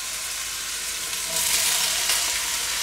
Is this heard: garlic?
yes